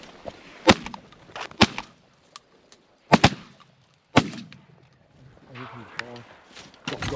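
Shotguns fire at ducks on a Wisconsin hunt, with several sharp, loud blasts spaced unevenly over a few seconds, each trailing a short echo, and hunters' voices in between.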